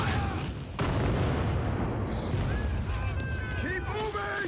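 Dense battle gunfire and booming blasts from a war film scene, loud and continuous, with shouting voices over the barrage.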